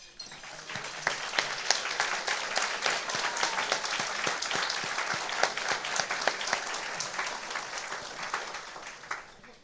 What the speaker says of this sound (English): recognize you with a big round of applause